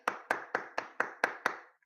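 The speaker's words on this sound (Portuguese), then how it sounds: "As minhas palmas para vocês" A professor claps seven times at an even, brisk rhythm, each sharp clap close and distinct against a quiet room.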